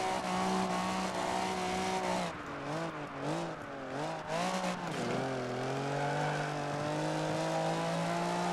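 A racing car engine in Project Gotham Racing 3 drones steadily and loudly, rising and falling through several revs and gear shifts, with faint tire squeal mixed in.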